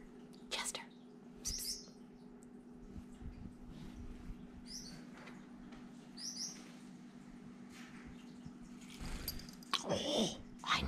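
Several short, bright bird chirps come through in scattered bursts over a steady low hum, with faint rustling and a few soft noises between the calls.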